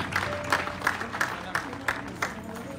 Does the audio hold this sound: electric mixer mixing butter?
no